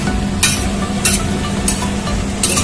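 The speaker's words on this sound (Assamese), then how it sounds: "কোমোৰাখিনি দিয়াৰ পিছত মই এতিয়া ভালধৰণে লৰাই দিম" Ash gourd stirred in a hot cooking pan with a steady sizzle underneath, broken by four loud scraping strokes at regular intervals.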